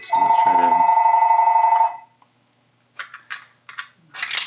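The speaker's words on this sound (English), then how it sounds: "of course somebody has to call when I'm on doing a video" A telephone rings loudly and close by, one long electronic trill of nearly two seconds, followed by a pause and then brief bursts of nearby speech.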